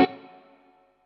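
A single guitar strum through a Laney Lionheart L5 Studio Class A amp with moderate reverb, a sharp attack ringing out and decaying smoothly over about a second, alone.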